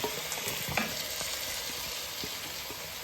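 Vegetables and curry paste fry in oil over a medium flame for a vegetarian Thai curry, giving a dense, steady sizzle with a few soft stirring knocks, close and unbroken, no speech.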